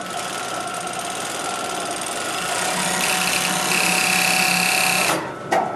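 An overlocker sewing machine stitching and trimming the side seam of a skirt runs with a steady, fast mechanical whir and hum for about five seconds, then stops abruptly with a brief clunk.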